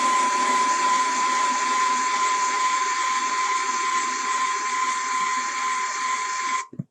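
A heat gun blows a loud, steady high-pitched whine with a strong tonal hum while softening a Ford F150 Platinum power running board part, and it cuts off abruptly at the end.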